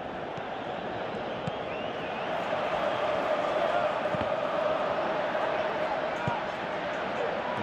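A stadium crowd roars steadily in the PES 2018 football video game during a Brazil versus Belgium match, a dense continuous wash of noise that swells slightly midway, with no talk.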